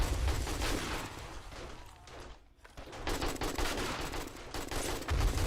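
An AK rifle fires at zombies in the survival game 7 Days to Die, with sustained loud, close automatic bursts that break for a brief pause midway and then resume.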